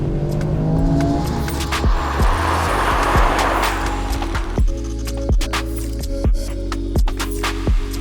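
A Toyota GR Yaris with the circuit pack pulls hard in second gear, its engine note climbing loudly and close before a string of sharp shift or exhaust pops breaks the tail end.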